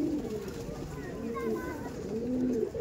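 An Andhra Madrasi pigeon from a Star Beat loft gives soft, low throaty coos up close, mixed with someone speaking nearby.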